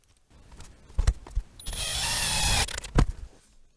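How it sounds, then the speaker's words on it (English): A power drill drives a screw into the housing of a bathroom vent fan in an old house, a steady whirring burst of about a second between close handling clicks and knocks. "I'm going to put a screw in there"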